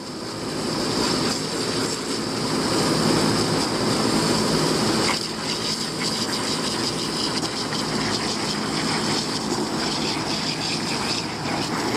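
A water spray nozzle blasts through a very dirty microchannel condenser coil, a steady loud hiss and rush of water that runs continuously, with a brief surge in the middle and a constant low rumble underneath.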